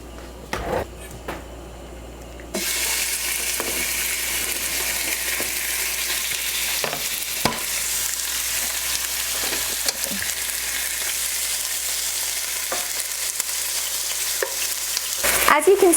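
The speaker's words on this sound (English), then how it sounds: "my first chicken breast is going to go into the skillet" Chicken breast sizzles and fries steadily in a hot skillet, a continuous bright crackle that starts after a brief quieter moment and holds at a steady level throughout, with occasional light clinks of utensils.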